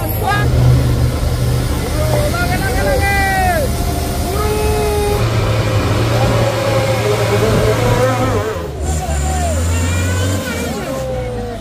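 Vehicles racing past on the road at the Batu Jomba fault excavation, a steady loud engine roar with rising and falling revs as they pass close, while someone talks over it.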